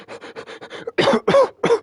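A person coughs repeatedly in a close, intimate setting: a quick run of small hacking bursts followed by three louder, harsher coughs, all close to the mic with no talking.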